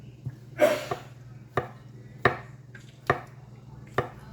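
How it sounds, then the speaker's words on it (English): A knife chops portobello mushrooms on a cutting board in about six distinct, close strikes spaced roughly half a second to a second apart. A low steady hum sits underneath and nobody speaks. "Our mushrooms, I'm gonna cut you up"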